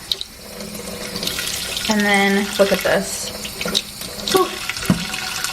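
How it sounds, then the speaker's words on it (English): A kitchen water tap runs into a pan of hot boiled eggs, a steady splashing rush with a brief filling tone, while someone talks briefly over the flow. "So I put the water on lightly"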